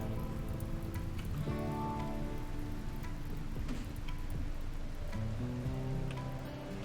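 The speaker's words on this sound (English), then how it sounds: "Probably because it's piddling down with rain." Steady soft rain hisses quietly through a RimWorld game scene, a continuous wash of patter with faint tonal music or game sounds underneath and nothing else standing out.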